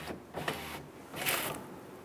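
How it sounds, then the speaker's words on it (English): Electric power window rolling up on a 2003-2008 Dodge Ram 2500 with an in-channel deflector fitted, a faint whirring motor hum in short surges, close and quiet with no talk. "With the ignition on, roll up the window."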